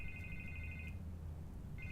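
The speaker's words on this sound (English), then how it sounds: "I can't get the phone to stop ringing." A telephone rings in the Batman Telltale game, a steady electronic ring that pauses and then starts again. It sounds quiet and a little distant over a low background hum.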